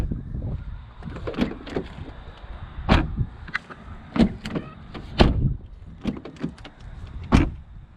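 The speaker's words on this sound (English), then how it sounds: "we'll hear the sound of how the doors sound when we close them" Car doors on a BMW 530D, an ex-highway patrol car, shut several times with solid thunks, heard close and alone in a quiet setting without talk.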